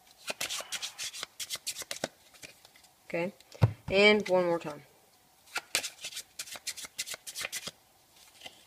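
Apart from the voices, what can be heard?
shuffling playing cards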